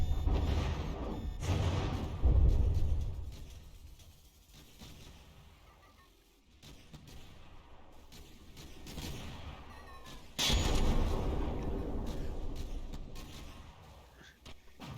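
In the naval combat game From the Depths, missile strikes and cannon fire land as two heavy rumbling bursts, with scattered crackling between them. The sound sits fairly low in level over a continuous noisy battle background, with no speech.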